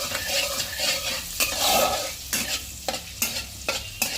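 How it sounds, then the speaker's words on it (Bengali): Chopped garlic frying in melted butter for a white sauce pasta crackles steadily while a utensil stirs it, with repeated scraping taps against the pan, close and clear. "এবার এর মধ্যে রসুন আমি এরকম কুচো করে রেখেছিলাম, রসুনটা দিয়ে দিচ্ছি।"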